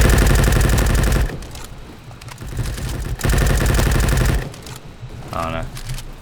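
XK416 rifle in the video game Bad Business fires in long rapid automatic bursts, loud and close, with pauses and a few scattered shots between them, as a player talks.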